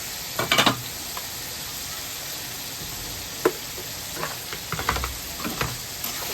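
Tomato chutney is stirred in a pan over a steady hiss of gentle cooking. A spoon scrapes and knocks against the metal in irregular clusters of close, distinct taps.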